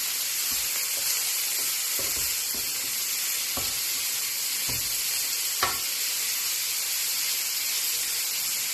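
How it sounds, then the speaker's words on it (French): Potatoes with garlic sizzle steadily in a frying pan, with a constant hiss and a few dull scraping knocks as a utensil stirs them, loud and close, with no voices. "Je mélange bien avec l'ail et tout le reste."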